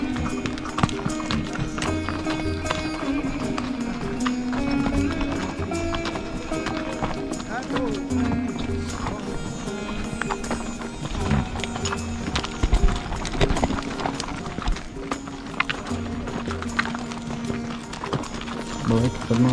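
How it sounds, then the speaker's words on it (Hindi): A horse is led carefully down a steep, dangerous mountain path on the Amarnath Yatra route from Sheshnag toward the holy cave, its hooves clip-clopping in an uneven rhythm close by under steady talking. "बहुत ही सावधानी से घोड़े को भी उतारना पड़ेगा।"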